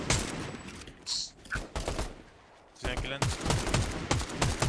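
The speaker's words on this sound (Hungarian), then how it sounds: "Oké, nagyon lövöldöznek." Rapid bursts of gunfire crack and rattle in Fortnite, arriving in dense clusters around a short lull. Someone talks over the shooting in Hungarian.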